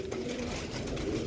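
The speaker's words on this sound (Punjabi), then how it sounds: "ਸਾਡੇ ਕੋਲ ਬਰੀਡਰ ਕਬੂਤਰ ਨੇ" Breeder pigeons cooing steadily and close, with soft throaty calls over a dense, continuous background of bird noise.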